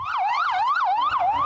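An ambulance siren wails steadily outside Elmhurst Hospital in New York during the coronavirus outbreak. Its loud, close, sweeping pitch rises and falls in a fast repeating cycle over low street rumble.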